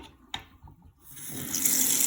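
Cold water runs from a kitchen tap while hard-boiled eggs are being made. After a few soft clicks, the flow starts and swells into a steady, close hiss that keeps rising to the end.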